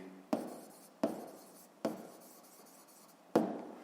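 Pen or chalk strokes of a hand-written physics formula for hydrostatic pressure, four sharp scratchy marks spaced about a second apart, each trailing off into a soft rub, close and clear with no talking.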